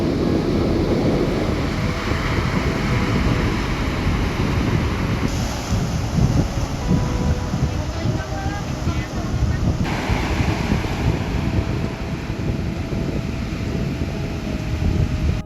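Surf rolls in steadily on the gently sloping white-sand shore of Dreamland beach in Pecatu, Bali, among large coral rocks, with heavy wind rumble buffeting the microphone throughout.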